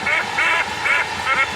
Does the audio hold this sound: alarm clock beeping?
no